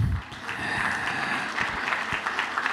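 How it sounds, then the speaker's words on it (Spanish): A congregation at a church service claps in a moderate, continuous patter, with occasional sharper individual claps standing out against the steady sound of many hands. "¿Quieren darle un fuerte aplauso?"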